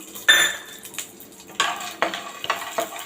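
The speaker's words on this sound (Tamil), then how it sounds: "லேசாக எண்ணெய் ஊற்றிக்கலாங்க இந்த வேர்க்கடலையை வறுத்து எடுத்துக்கலாம்" Peanuts roasting in a little oil in a pan for a Guntur-style ivy gourd roast, heard as a near clatter of metal spoon strikes and scrapes against the pan over a faint background sizzle, in irregular bursts.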